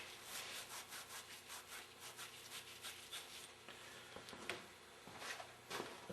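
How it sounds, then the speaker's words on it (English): A scuff pad scrubs rust off metal threads during a Meyer E-60 rebuild: quiet, close, rhythmic back-and-forth rasping strokes, steady for several seconds with a couple of sharper scrapes near the end. "This one's got a little bit of rust in it. Hit it with the scuff pad."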